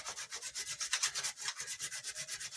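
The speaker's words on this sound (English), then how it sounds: "I'm going to kind of got a little sandpaper here, and I'm going to just sand this" A small piece of sandpaper rubs back and forth across a painted craft surface, making quick, steady scratchy strokes in an even rhythm, close and clear with no talking.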